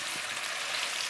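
Chinese BBQ chicken wings cooking down in their sauce over high heat give off a steady, dense, close sizzle with a soft crackle, brief and unbroken.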